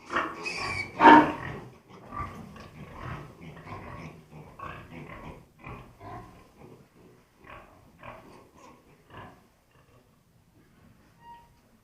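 Shrill squeals from a small ginger piglet burst out loudly at first, then continue as a series of shorter, fainter squeaks and grunts with pauses between them.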